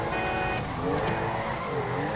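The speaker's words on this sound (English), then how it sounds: "See if we can do this little 360 donut right here." A car in GTA 5 spins a 360 donut while drifting, a loud close engine roar with wavering pitch as it revs through the slide, with faint squealing on top.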